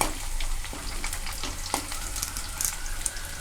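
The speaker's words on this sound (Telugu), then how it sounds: "కలిపే ఉల్లిగడ్డలు చూడండి అట్లా వేగుతున్నాయి కదా" Onions fry in a pan for a tomato curry, a close, continuous crackling sizzle with scattered pops and light stirring scrapes, heard alone without any talking.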